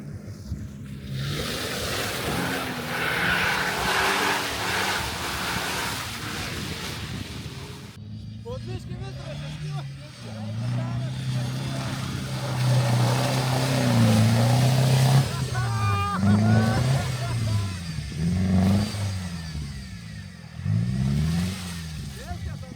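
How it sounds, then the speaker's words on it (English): Subaru engine on an off-road trail bouncing off the rev limiter while crawling through puddles, a loud, close, stuttering drone that rises and falls in repeated surges, with voices talking over it. "This Subaru loves the rev limiter."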